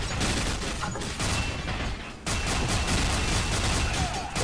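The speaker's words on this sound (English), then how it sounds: "shooting mad fucking bullets" Sustained automatic gunfire in the online shooter F.E.A.R. Online, a dense, loud and continuous stream of rapid shots with only a brief dip midway, heard alone with no talking.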